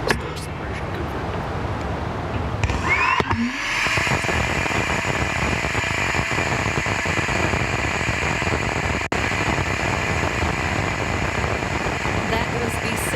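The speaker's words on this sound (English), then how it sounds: "That was the sound of an electric pump-fed rocket engine in space." A Rocket Lab Electron's electric pump-fed engine fires in space, a steady broadband roar and hiss that runs throughout after a brief shift near the start, with one sharp dropout partway through.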